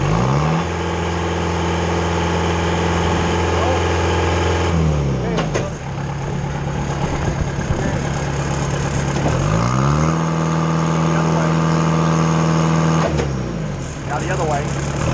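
Engine of a Mayco LS-40 concrete pump running loud and steady while pumping forward, with the pitch dropping and rising again as the RPM changes a few times; a person talks over it.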